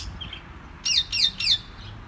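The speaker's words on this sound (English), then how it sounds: "More lovebirds." Lovebirds in an aviary give three quick, bright chirps in a row, close and clear over a soft background hiss, with a fainter call just before them.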